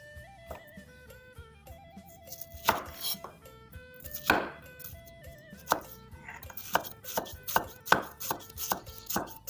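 A knife slices lemongrass on a board in quick, crisp taps, irregular at first and then settling into a steady rhythm, heard close over faint background music.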